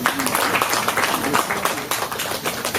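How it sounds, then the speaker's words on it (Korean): An audience at a K-CORE scholarship foundation commemorative event applauds in a steady, moderately loud patter of clapping that lasts the whole stretch, with a faint murmur of voices beneath it. "여러분 박수로 모시겠습니다."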